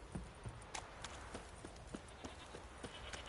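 Horse hooves clip-clopping at a walking pace in The Witcher 3, a quick irregular run of close, distinct knocks over a soft ambient background with no voices.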